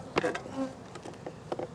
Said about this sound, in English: you can see there's bees in it, but not a huge number of bees